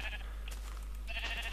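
A Minecraft sheep bleats in two short harmonic bursts, one at the start and another near the end, over a constant low background hum with no talk.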